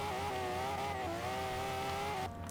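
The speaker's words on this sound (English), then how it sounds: "It just wheel spins all over the place at the moment." An Aston Martin DB11 spinning its wheels in Forza Horizon 3, a steady engine drone under a wavering tire-squeal tone, held near and constant before easing off at the end.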